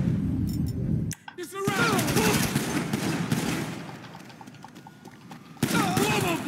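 Gunfire in the video game GTA plays on a PC: sharp shots and bursts from a distance, mixed with horse hooves and a loud busy game soundscape, while people talk over it.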